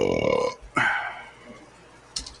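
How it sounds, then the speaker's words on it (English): A deliberately forced burp rumbles low for about half a second, followed by a second shorter eructation and a faint sharp noise near the end, with no talking. "We did a manual burp."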